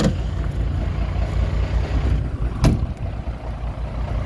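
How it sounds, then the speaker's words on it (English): A vehicle engine idles at normal low revs close by, a steady rumbling drone with slight pulsing and a brief sharp knock midway, no talking over it. "I'll just let it do a normal idle."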